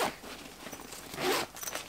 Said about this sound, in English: And that obviously you can zip that down and access that from the front.